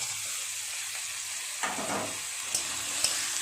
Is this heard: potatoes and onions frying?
yes